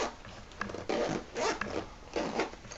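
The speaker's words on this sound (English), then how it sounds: "nice zipper pocket." A zipper on the lined pocket inside a handmade handbag is pulled open and closed in several quick rasping strokes, close and clear, with brief pauses between pulls.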